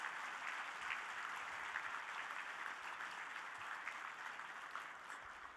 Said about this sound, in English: Can you please have a round of applause for all these guests with us today?